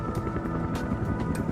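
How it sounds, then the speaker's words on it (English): Rotor noise from an AgustaWestland EH 101 helicopter: a steady mechanical drone with rhythmic blade thumps pulsing several times a second, moderately loud and continuous. "Rotor noise, which can warn an enemy of a helicopter's approach"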